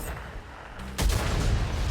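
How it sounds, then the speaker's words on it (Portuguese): A single heavy tank cannon blast in a video game, World of Tanks, booms out about halfway through, following a quieter low engine rumble, with no one talking. "Boa! Belo tiro, galera."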